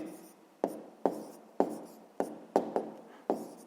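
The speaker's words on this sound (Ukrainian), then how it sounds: "Пишемо відповідь." A pen writes a math answer by hand on paper in eight short scratching strokes, each a quick tap that fades, in an uneven rhythm, close and quiet with no talking.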